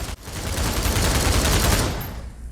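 An RPK machine gun fires in the Pavlov VR game, a loud, dense sustained burst of rapid automatic fire lasting about two seconds after a brief catch, then cutting off.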